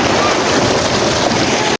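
Cold water gushing from a village tubewell, a steady, loud, close broadband rush that fills the whole clip without a break and cuts off abruptly at the end.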